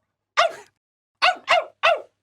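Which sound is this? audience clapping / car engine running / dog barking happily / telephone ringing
dog barking happily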